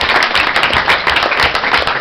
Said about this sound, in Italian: Ogni tanto un applauso.